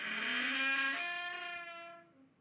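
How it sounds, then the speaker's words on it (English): A single drawn-out creak from a door, tonal and squeaky, sliding downward in pitch before fading out after a couple of seconds. "That's a creaking door."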